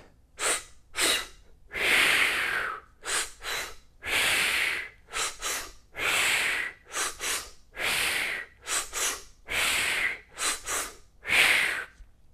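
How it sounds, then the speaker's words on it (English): Breathwork in and out through the mouth: sharp paired inhales into the belly and then the chest, each followed by an exhale, repeated in a quick uneven rhythm, loud and close with no talk. "It's going to be a sharp inhale into the belly, then a sharp inhale into the chest, and then exhale."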